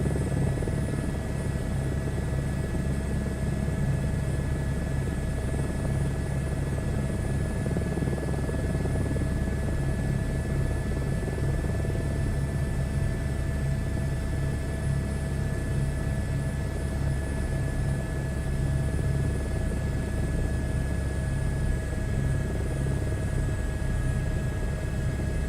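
H125 helicopter flying in a flight simulator game, a steady unbroken rotor and turbine drone with a constant whine, even in level throughout with no talk.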